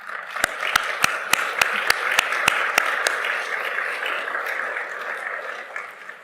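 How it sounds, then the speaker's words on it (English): An audience at a First Nations address applauds steadily for a former prime minister, one nearby clapper standing out with sharp, evenly spaced claps for the first few seconds before blending into the crowd. "I think we all owe her a round of applause"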